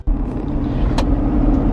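A 2018 Ford F-250 pickup rolls along with a low, steady engine rumble and road noise heard close up. It starts abruptly after a short silence, and a brief higher whoosh comes midway.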